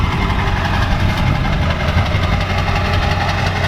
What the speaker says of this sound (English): Straight pipe exhaust always sounds better.